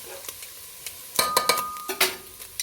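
Fresh garlic stirred into sizzling ground pork in a pan: a few scraping spoon strokes and clinks over a soft, low fry, fairly close and quiet.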